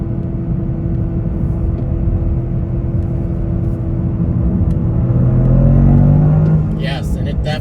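Toyota GR Corolla driven hard around a track in track mode, engine droning steadily with a rising rev toward the end and a loud rumble close by.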